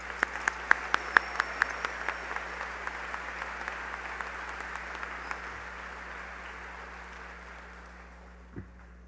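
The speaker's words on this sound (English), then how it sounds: "Let's give the seniors one final round of applause to congratulate them on their achievements." High school graduation crowd applauding the seniors in a large venue, a few sharp nearby claps over a broad wash of distant clapping that slowly fades away.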